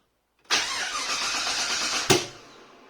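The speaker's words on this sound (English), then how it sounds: "Let's give this a crank and see what she does." An engine hooked up to EFI Live tuning software cranks, catches and fires into a loud, steady roar, then gives one sharp pop before settling to a lower, quieter run.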